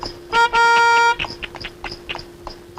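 A car horn sounds near and loud: a short toot, then a longer sustained blast lasting under a second. Softer scattered clatter and street noise follow.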